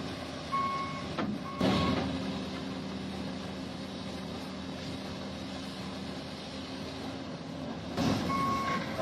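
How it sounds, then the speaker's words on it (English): A multi-ton excavator on steel tracks climbs onto a flatbed truck, its steady diesel drone continuous under repeated reversing beeps, with louder bursts near the start and end. "This multi-ton excavator climbs onto the flatbed in a heart-stopping display of precision and balance."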